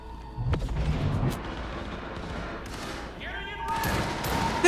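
Video game gunfire in a tense emergency scene, with bursts of shots and booms layered under an alarm-like tone and a voice speaking over the chaos.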